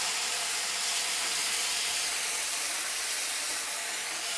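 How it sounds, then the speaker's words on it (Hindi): Onions, cashews and tomatoes fry in a pan for a restaurant-style paneer tikka masala gravy, making a steady, loud, close sizzling hiss that barely changes. "इसके अंदर अब हम काजू भी ऐड कर देंगे ताकि काजू भी हमारे थोड़ी देर के लिए फ्राई हो जाए"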